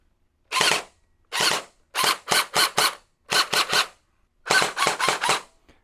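An UNLOCX gel blaster fires gel balls in sharp, loud, close snaps: a couple of single shots, then quick bursts of three or four shots with short silent gaps between them.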